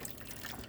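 Water runs from a tap inside a 2013 Sterling Eccles SE Quartz caravan, a brief, faint, steady splashing trickle with no talking.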